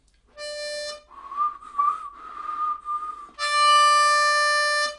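A person whistles alone in a quiet room during a harmonica bending lesson, holding a clear steady tone, then a wavering lower passage, then a sustained note again, loud and close.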